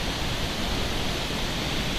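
Dunhinda waterfall in Sri Lanka, a massive cascade, gives off a steady, dense roar of falling water that holds even and loud throughout with no voices.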